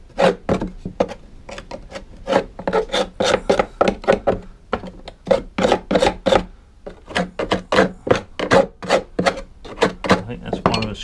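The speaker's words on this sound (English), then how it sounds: "I want to scrape that off just ever so slightly. Right, a bit of scrapaging going on." A Mountfield lawn mower blade cover being scraped by hand, a rapid run of close, rasping back-and-forth strokes in an uneven rhythm, loud and up close.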